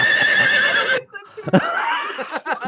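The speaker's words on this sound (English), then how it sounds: "No, don't play the horse soundbite, Max." A loud horse whinny rings out, then a shorter second neigh follows after a brief pause, close and clear.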